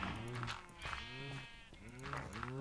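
Sheep in the game Minecraft bleating in a few short wavering calls, fairly quiet, with a voice talking lightly underneath.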